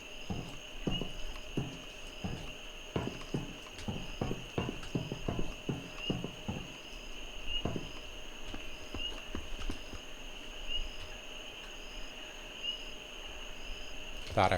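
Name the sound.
footsteps in a video game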